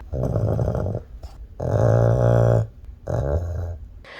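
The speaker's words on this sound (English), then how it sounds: "I caught him snoring." A dog snores loudly up close, three long rumbling breaths with short pauses between them.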